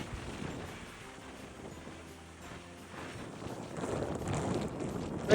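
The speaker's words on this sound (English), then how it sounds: "Woo, it's windy." Strong wind on top of a tower rumbles and buffets against the microphone in a steady low roar, growing stronger toward the end, with no talking.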